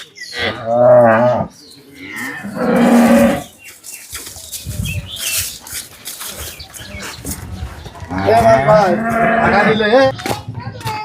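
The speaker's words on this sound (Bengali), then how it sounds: "হ্যাঁ বিগ বডির একটা গাভী দেখছেন" Cows on a dairy farm with Holstein Friesian milking cows moo loudly in repeated long bellows, close by, with people talking between the calls.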